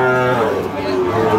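A spotted Sahiwal bull calf gives a loud, close, drawn-out moo at a cattle market, with crowd chatter and voices behind it.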